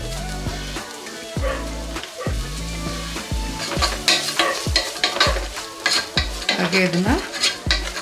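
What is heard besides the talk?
onions frying in oil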